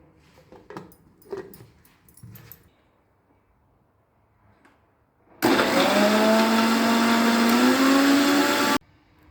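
A kitchen mixer blends a chikoo milkshake with milk, starting abruptly after some quiet handling noises and whirring loudly and steadily for about three seconds before cutting off.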